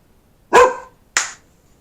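Two sharp dog barks, close and loud, the first a deep full bark and the second higher and shorter, with quiet between them.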